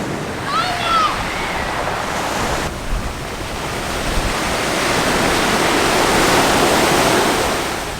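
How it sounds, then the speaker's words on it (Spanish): Ocean surf rolls in along the Puerto Vallarta seafront promenade, a loud, continuous broadband wash that swells steadily, with a few faint bird chirps near the start. "frente al mar, con el sonido de las olas"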